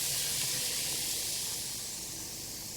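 Vegetables for a stir fry sizzle steadily in a hot pan after being slid into a larger one, a loud close hiss that slowly eases off.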